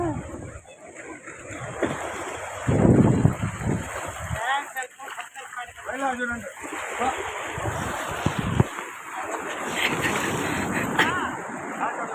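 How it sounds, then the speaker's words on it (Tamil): Big ocean waves crash against rocks along the shore with a continuous roar and wind buffeting the microphone, while people talk over it. "அலை எவ்வளோ பெருசாக அடிக்குதுப்பா."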